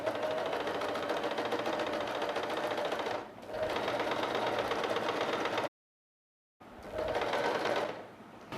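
An electric sewing machine runs stitches in reverse, a loud, rapid, even mechanical whir that pauses briefly, resumes, stops in full silence for about a second, then starts again.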